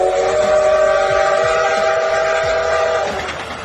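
An old train passing, a sustained loud whistle-like tone with rumbling rail noise beneath that holds steady for about three seconds and then begins to fade, with no talk.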